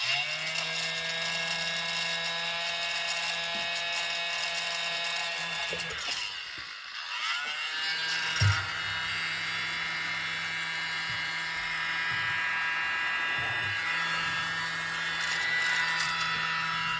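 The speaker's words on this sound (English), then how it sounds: "hold the mini blower up high and come down slowly until you see where it hits the paint and then push out" A mini blower runs in a steady high whine with buzzing mechanical overtones as it blows air onto fluid art paint. It cuts out briefly midway, then resumes and holds steady, close and continuous with no talk.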